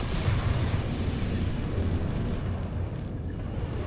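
A dragon breathing fire in the video game Dragon Quest XI, a loud, sustained roaring rumble with a deep low-end boom that holds steady and then thins slightly near the end, with no talking.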